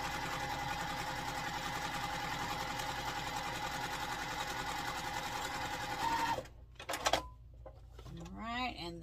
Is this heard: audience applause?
no